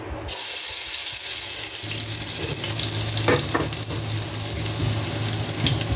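Garlic frying in a pan as the start of chicken adobo, a steady, close sizzle that begins abruptly and continues throughout, with a few brief clinks of utensils stirring.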